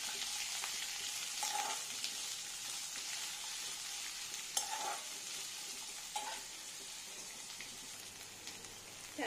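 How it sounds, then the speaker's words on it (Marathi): Two sliced onions frying in a pan until browned: a continuous crackling sizzle with periodic soft scrapes and clicks of stirring, fairly close and even, no voices. "यामध्ये आपण उभा चिरलेला कांदा टाकूया। ही दोन कांदे आहेत, त्याला आपण चांगला लाल होईपर्यंत परतूया।"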